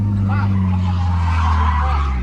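A drifting car with tyres skidding and squealing, engine droning loudly and steadily throughout, with people talking and shouting over it.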